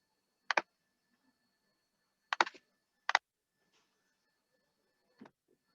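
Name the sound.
typing on a computer keyboard to re-enter an IP address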